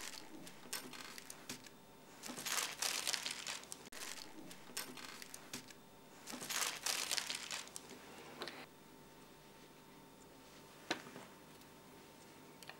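Tissue paper sewing pattern being pulled away and crinkled off fabric, soft rustling bursts coming and going with scattered light ticks in a quiet room.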